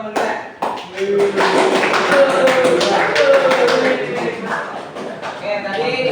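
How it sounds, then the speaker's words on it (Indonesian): Classmates applaud in a classroom with a scatter of hand claps that runs on for several seconds, while a voice keeps talking over the clapping. "Oke, tepuk tangan ya buat teman-teman kita."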